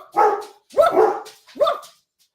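A dog, a female, lets out three close, loud barks in quick succession, each short and a little throaty, with brief pauses between them and then silence.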